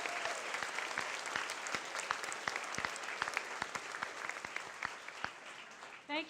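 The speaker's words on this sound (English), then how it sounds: "let's give all our volunteers a big round of applause from all the categories" An audience at a volunteer awards ceremony claps steadily, a thin, moderately distant patter of individual hand claps that continues throughout before it tapers off.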